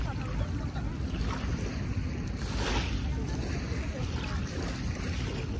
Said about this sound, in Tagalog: Ito yung Dalampasigan ngayong hapon.